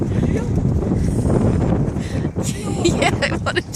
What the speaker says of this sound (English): I wanted to show the wind flapping the umbrella.